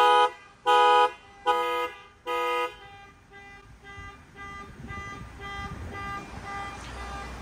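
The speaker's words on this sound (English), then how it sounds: "I'm literally sitting on one of the cars that's beeping." A car alarm blares in four loud, evenly spaced bursts, then a steadier electronic tone lingers over outdoor background noise.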